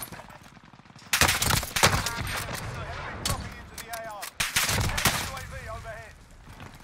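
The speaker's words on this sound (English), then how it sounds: "who's shooting me in the back?" Rapid gunfire from the video game Warzone on Rebirth Island, loud overlapping bursts and shots that start suddenly and continue in a dense volley, with a player's voice talking over it.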